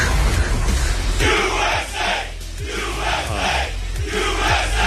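A large crowd cheers and yells loudly in sustained waves, with chanting-like surges and a dense roar filling the whole stretch.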